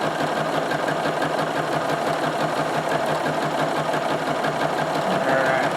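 A sewing machine stitches an interlocking circles quilt design, running as a steady, continuous mechanical hum with a fast, even needle rhythm, fairly loud and close, with no pauses.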